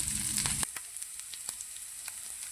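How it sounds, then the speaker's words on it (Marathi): Garlic sautéing in a little oil in a pan, an initial louder burst of sizzling that settles into a steady high crackle with scattered faint pops and utensil scrapes, no voices. "लसूण मात्र थोडंसं तेल टाकून परतून घेऊया"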